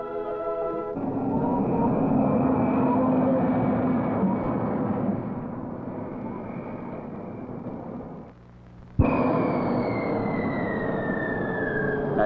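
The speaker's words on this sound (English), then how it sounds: "Your Northern Consolidated prop jet liner lands at King Salmon" Northern Consolidated turboprop airliner landing at King Salmon, Alaska, in a 1959 film: a steady, droning engine whine that dips briefly near the end, then returns sharper and higher, with no speech over it.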